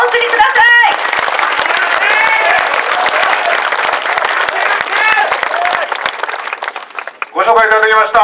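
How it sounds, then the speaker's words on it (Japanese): Crowd applause at a Kanuma mayoral election campaign kickoff rally, dense sustained clapping from many people with a voice over a loudspeaker at the start and someone speaking as it fades near the end. "大きな拍手お送りください。"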